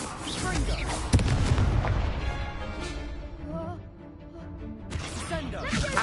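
Confringo, an explosive spell in the game Hogwarts Legacy, going off as loud booming blasts with crashing impacts amid busy combat sounds; a voice speaks over it.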